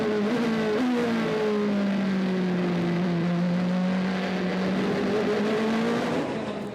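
A Rebellion Le Mans prototype race car at the 2018 24 Hours of Le Mans, recorded onboard, with a steady, loud engine drone that shifts pitch through gear changes, constant and close with no voices.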